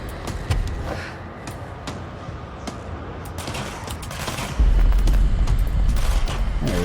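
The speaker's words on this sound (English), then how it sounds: "I know there's someone suddenly shooting at me from." Gunfire in the video game Control, with repeated shots crackling through dense game action and a heavier burst of booming fire in the last couple of seconds.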